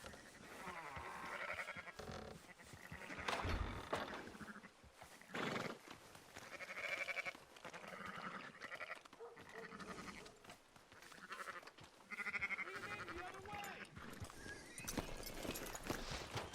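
Sheep in Red Dead Redemption 2 bleat repeatedly among hoof clip-clops and other livestock sounds, faint and uneven bursts with irregular gaps.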